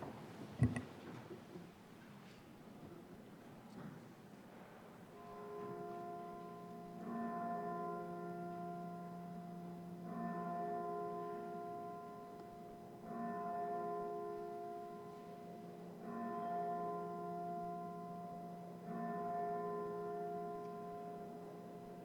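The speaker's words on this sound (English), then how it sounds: "The Senate will observe a moment of silence and the chimes will ring." Chimes rung in the Colorado Senate chamber during a moment of silence honoring missing persons: a series of slow, evenly spaced ringing tones with long sustained overtones, clear and alone in a quiet room.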